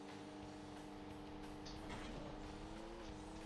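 A rally car engine in a driving video game holds a steady, sustained drone with gear changes and a slight lift in pitch partway through, close and continuous, with no voices.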